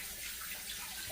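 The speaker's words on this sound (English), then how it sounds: "Wash my hands because I touch egg." Hands are washed under a running kitchen tap, a steady close splashing hiss of water with no pauses over about a second.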